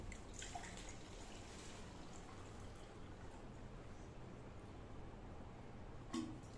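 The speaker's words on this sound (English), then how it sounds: "we are going to fill the cup up with water." Water running into a cup for a simple upside-down cup physics experiment, a faint continuous trickling and splashing stream, quiet and steady with a small splash near the end.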